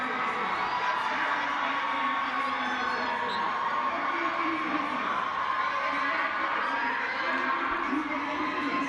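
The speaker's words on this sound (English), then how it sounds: "And a bit of a cheer from the local supporters" Local supporters at a university football match between UWC and WSU make a steady crowd roar with scattered cheers throughout, while a commentator talks over the noise.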